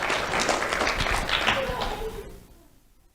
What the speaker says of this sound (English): Let's have a round of applause for Cynthia Claremont.